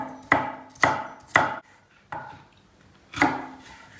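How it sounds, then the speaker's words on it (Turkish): A knife chops through carrots on a board, five sharp separate strokes at uneven intervals, close and crisp, with quiet gaps between them. "Siz isterseniz 2 tane orta boy havuç doğrayabilirsiniz."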